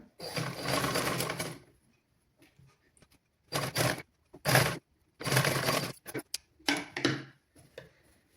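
Sewing machine stitching a seam on a children's garment in a tailoring class, several bursts of rapid whirring separated by short pauses, close and fairly loud.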